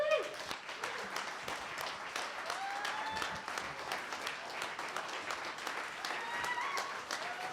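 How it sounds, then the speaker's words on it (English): An audience at the 2023 Mass Creator Awards applauds, a steady crowd clapping that carries on evenly the whole time, with a few voices mixed in. "Let's give another round of applause for this great Creator Awards for Mass Access."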